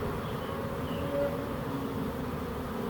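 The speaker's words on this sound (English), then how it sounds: "just grabbing a handful of bees, you might get stung" A swarm of honeybees buzzes steadily and densely close by as a handful of them is scooped up bare-handed from a backyard swarm trap. The drone is continuous and moderately loud, with no talking.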